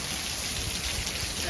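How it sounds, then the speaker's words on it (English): Steady rain falls over an outdoor garden where raised beds are being filled, a dense, even hiss of drops with no breaks, close and constant throughout. "This is the rain"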